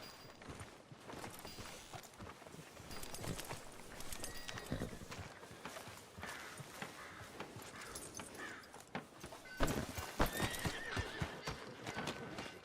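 In Red Dead Redemption 2, horse hooves clip-clop at a moderate distance through a busy ambient scene, with a horse's whinny and scattered clatter mixed in.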